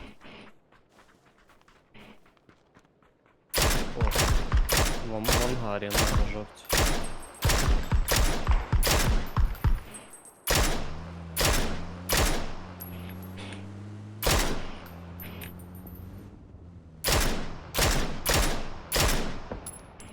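Rapid bursts of gunfire in PUBG, loud and close, come in repeated sharp volleys after a quiet start, with a brief pause midway, while someone speaks briefly over the shooting.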